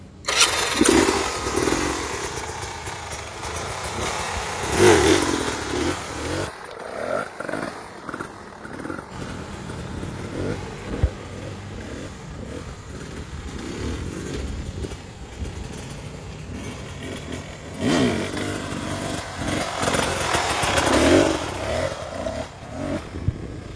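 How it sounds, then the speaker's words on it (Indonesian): A special-engine motorcycle revs for a slow wheelie, its engine roaring loud and close with throttle swells that rise and fall, and two stronger surges. "coba motor itu kita jalankan dengan cara gasnya itu mulai kita ayun, mulai kita main."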